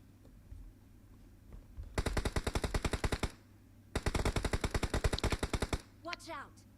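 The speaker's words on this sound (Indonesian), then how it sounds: "Mana sih nembak gue tuh?" Automatic gunfire in the PUBG Mobile shooter game: two long rapid bursts of evenly spaced loud shots, each lasting about one and a half to two seconds with a brief pause between, over quiet background hum.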